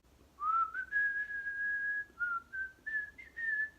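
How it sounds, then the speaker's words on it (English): A person whistling a short melodic tune nearby, a clear steady sustained tone followed by several brief rising and falling notes, alone with no talking. "Yes, I can whistle."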